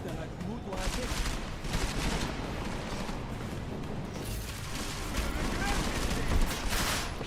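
Sustained gunfire in the video game Deus Ex: Mankind Divided: dense bursts of automatic and rapid shots crackle almost without pause through a chaotic firefight, mixed with in-game voices shouting under the shooting.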